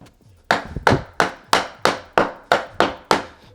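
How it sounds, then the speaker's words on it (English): Eight sharp taps from the side of a hammer on wooden floorboards at an even pace, each ringing briefly, close and loud. "we're going to kind of use the side of the hammer since we have limited room"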